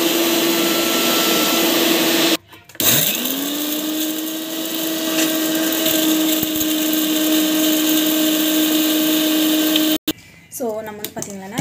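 Hair pack ingredients ground to powder in an electric kitchen mixer, a loud steady whirring hum that stops briefly and then starts again, ending with a short pause and a restart.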